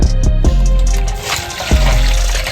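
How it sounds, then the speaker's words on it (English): Water poured into the fuel tank of a 1982 Honda ATC 110 three-wheeler, a loud continuous gurgling splash with a few heavier thumps, close by. "we're gonna fill some water in there"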